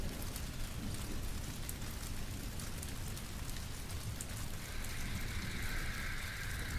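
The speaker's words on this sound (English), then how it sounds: "let the rain fall" Steady rain falls continuously, an even hiss of drops close by with no pauses or other sounds.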